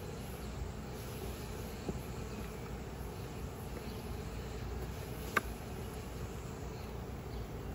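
Honeybees swarm around an open hive full of brood frames, a dense, even drone that holds steady throughout, with a couple of faint sharp ticks from handling the frames.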